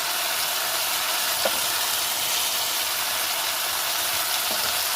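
Tomato and spice masala with turmeric and chili powder sizzles steadily in a pan for a fish-head moong dal, a continuous close, even hiss with faint stirring scrapes.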